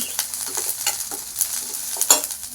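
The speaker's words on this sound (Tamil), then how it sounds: "இஞ்சி பூண்டு வெங்காயம் இதெல்லாம் போட்டு ஃப்ரை பண்ணிவிட்டு" Ginger, garlic and onion fry in a pan, with a light crackling sizzle broken by irregular scraping stirs and soft clinks, close and moderately quiet, with no talking.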